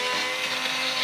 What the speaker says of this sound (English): using a hand blender, I'll blend everything together.